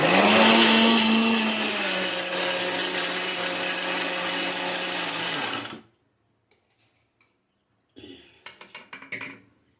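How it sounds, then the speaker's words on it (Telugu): A mixer grinder whirs loudly and steadily for several seconds grinding fenugreek leaf chutney, then stops abruptly; after a silence, a few clattering knocks follow. "ఇలా రెండు సార్లు గ్రైండ్ చేసి"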